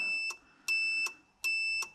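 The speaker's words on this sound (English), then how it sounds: "So that's beeping at me." Electronic beeping in three bursts, each a steady high-pitched tone lasting about a third of a second, with short gaps between; fairly loud, no voices.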